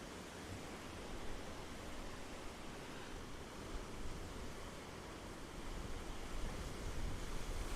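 Ocean surf at the Gold Coast, Queensland, a broad continuous wash of breaking waves with gentle swells in loudness, distant and unbroken, with some wind noise.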